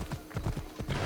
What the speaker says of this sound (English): how can you sprint or gallop with this horse?